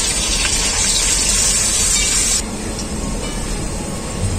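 Long-cut potatoes go into a pan of lightly fried onions for a rohu fish curry with drumsticks and yardlong beans, giving a loud, steady hissing sizzle that drops to a softer level partway through.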